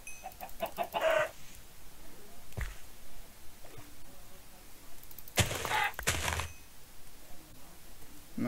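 Chickens in a video game cluck in short bursts against a quiet background, with a couple of sharp clicks and a brighter noisy burst partway through.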